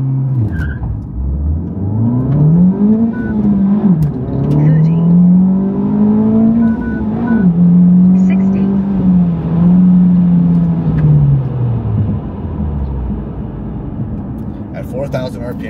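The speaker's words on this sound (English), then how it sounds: "It bogged down when I dumped the clutch" A Honda FL5 launches after a clutch dump at 4,000 RPM, and the engine bogs down, its note dipping and labouring before climbing slowly through gears, loud and close, with a person talking over it.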